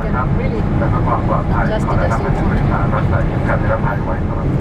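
Inside the cabin of a Thai Airways Boeing 777 climbing toward cruise altitude, jet engines and airflow make a loud, steady roar, with faint voices beneath it.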